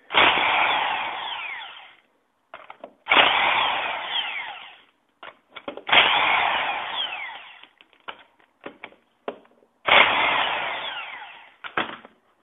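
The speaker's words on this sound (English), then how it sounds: "Just stick the impact gun on there, like that." A Harbor Freight impact gun removing front strut nuts on a car: four loud, harsh bursts of rapid hammering, each about two seconds long, separated by shorter blips and brief pauses, with no talk.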